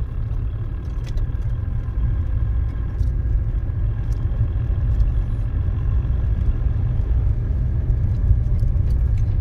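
A car engine runs steadily while driving on an open road, with a constant low rumble throughout and no distinct shift break standing out.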